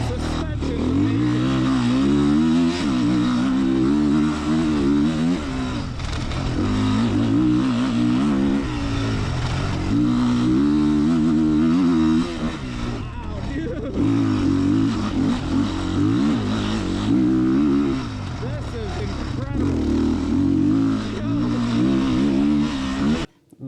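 2026 RR X-Pro dirt bikes lap a test track, their engines revving and droning loudly and continuously with shifting pitch, several machines overlapping close by, and a voice talking over the noise.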